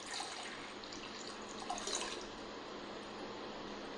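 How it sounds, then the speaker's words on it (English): Cold water running steadily from a tap into a bowl, a continuous close hissing splash with no talking. "The first step in our experiment is to take some cold water and fill up our bowl."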